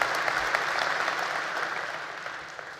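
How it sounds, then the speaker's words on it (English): Audience at a college of education commencement ceremony applauds parents, siblings, relatives and friends; steady, dense clapping from a large crowd fills the whole stretch, fading slightly toward the end. "give them a round of applause because they hung in there with you"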